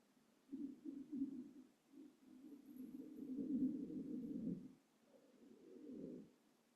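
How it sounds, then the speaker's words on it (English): A person's stomach rumbles softly during a quiet restorative yoga session, with low gurgling swells coming in uneven waves over several seconds against near silence. "You might hear my stomach rumbling a little"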